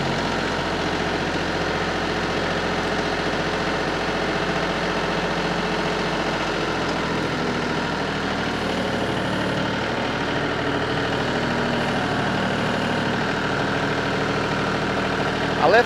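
A tractor fitted with a rear backhoe for ballast idles at a sawmill setup, giving a steady, continuous low engine drone that stays even and fairly loud throughout, with no voices over it.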